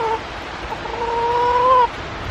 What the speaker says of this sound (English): Here's the hen house up there. And there's a hen.